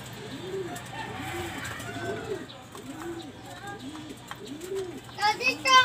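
Pigeons coo in a loft, a steady series of soft, rounded calls repeating about once a second nearby, with faint children's voices and brief higher chirps toward the end.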